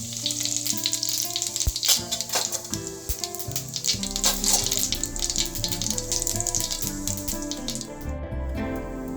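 Cumin seeds frying in hot oil in a kadai, after mustard seeds and asafoetida, make a steady close sizzle throughout, with a few crackles and pops and faint stirring in the background.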